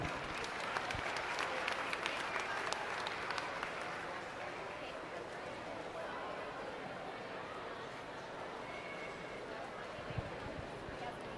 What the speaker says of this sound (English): Give these kids a round of applause as they leave the exit.